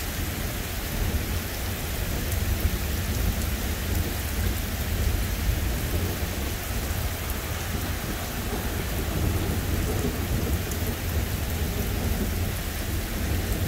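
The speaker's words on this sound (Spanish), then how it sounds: "Escuchen el río de la lluvia." A heavy thunderstorm in Iowa: dense, steady rain pours down on surfaces, with deep rumbles of thunder rolling beneath it for the whole stretch, loud and close, with no voices.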